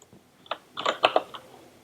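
Keystrokes on a computer keyboard while Python code is entered into a notebook cell on Windows, a few isolated taps followed by a quicker cluster of clicks, close and moderately soft, with no talking.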